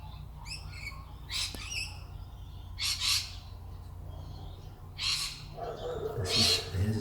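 A magpie calls in short, raspy bursts that come and go against a steady low outdoor hum, each squawk fairly loud and close.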